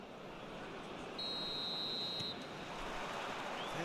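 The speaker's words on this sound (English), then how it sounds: "There's the whistle." A referee's whistle in a football video game gives one clear, sustained shrill blast over the low roar of a stadium crowd.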